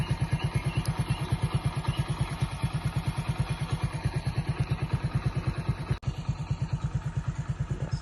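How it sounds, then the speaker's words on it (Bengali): A motorbike engine runs at a close, steady idle outdoors at dawn on a winter morning, its even, rapid thumping beat continuing throughout with one brief click near the end. "আমি আর আমার বাইক নিয়ে চলে আসি যে কৌশলে"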